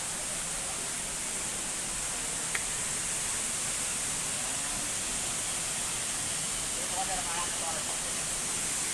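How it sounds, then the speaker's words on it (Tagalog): Steady broadband rushing of a small waterfall, the lowest falls along a trail, fills the whole stretch at an even, moderate level with no breaks. "Ito yung pinakaunang falls."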